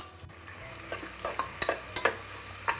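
Chopped red onions sauté in a pot with bay leaves and a cinnamon stick for a bean stew, a soft continuous sizzle broken by a handful of distinct scraping stirs of a spoon.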